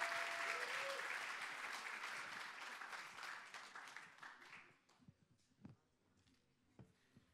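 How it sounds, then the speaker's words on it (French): A crowd at an eloquence competition final applauds the speaker Clarisse Boucher with dense, steady clapping that fades out over several seconds, leaving scattered claps and low voices. "On peut l'applaudir très fort."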